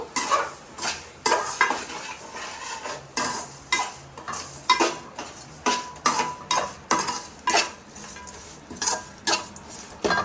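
A spoon stirs chilli powder into a cooking pan in a steady rhythm of repeated scraping strokes, each a distinct rasp against the metal, over a light sizzle.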